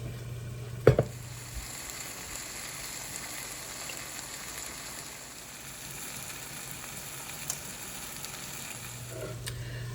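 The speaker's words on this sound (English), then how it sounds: "I browned these sausage on both sides, then I add the sauerkraut, put a lid on it, and let it slowly cook and marry together." Sausages and sauerkraut cook slowly in a lidded skillet with a soft, steady sizzle throughout, broken by a sharp clank near the start and a faint tap later.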